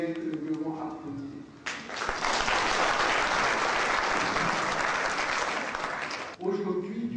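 Loud, sustained applause from a large crowd at a midwives' congress in Burkina Faso fills most of the stretch, with a speaking voice just before and just after it.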